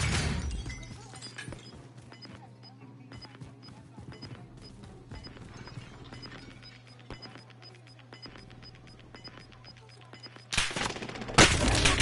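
Gunfire crackles in the Warzone battle royale shooter, scattered sharp shots and short bursts under a steady hum, with a loud burst of noise near the end while players talk.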